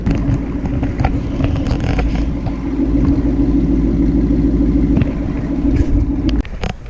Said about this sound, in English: You heard the exhaust, it sounds amazing.